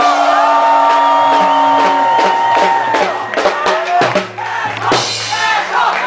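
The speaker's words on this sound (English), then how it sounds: "I need y'all to scream for them" A crowd at a Vancouver breakdance battle erupts in loud screams, whoops and cheering, sustained and close throughout, with individual shrill yells rising above the roar and a brief dip before it swells again.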